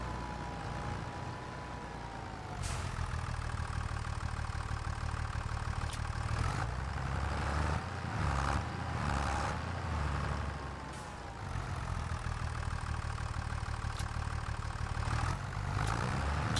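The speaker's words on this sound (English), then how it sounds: "It wasn't me moaning about my fuel in my tractor before, and then I just leave it idling while I'm cutting trees down." A tractor engine idles steadily in the farming game The Frontier, a continuous low rumble with some mechanical shifts and brief clanks over its length.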